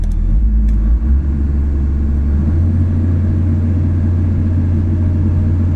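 A heavy diesel engine of a Daewoo DH130-3 excavator on electric throttle idling close by, a deep steady rumble that drops slightly in pitch early on and then holds evenly.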